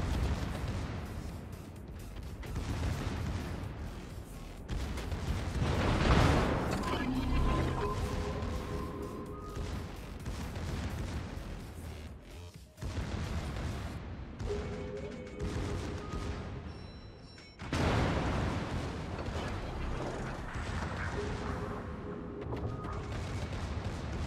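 Rapid secondary gun batteries of a Tier X German battleship, the Großer Kurfurst, firing in World of Warships during a ranked battle, giving dense repeated booms and blasts over a steady rumble of game noise for the whole stretch.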